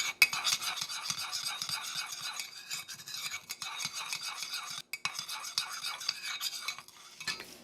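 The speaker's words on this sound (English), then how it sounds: "you're going to stir very well" A spoon stirs white and brown sugar with butter in a cup for a keto chocolate chip cookie, making quick, close scraping clinks in a steady rhythm, with one brief pause.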